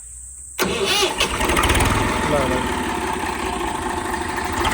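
A Swaraj 735 tractor cranks and catches abruptly after a moment of quiet, then settles into a loud, close, steady diesel chug with a rhythmic knock, and someone speaks briefly over the running engine.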